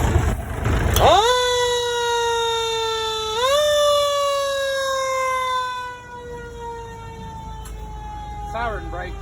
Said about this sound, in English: Everybody likes Q siren.